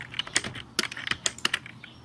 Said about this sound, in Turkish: Klavye sesleri geliyorsa çok özür dilerim.